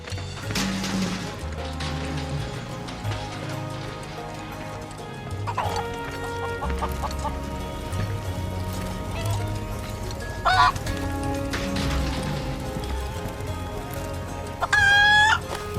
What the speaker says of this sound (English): This chicken's moving much faster than I am.